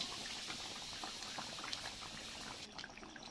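A pot of fish and taro curry boils steadily, with dense close bubbling and popping that runs throughout and no voices.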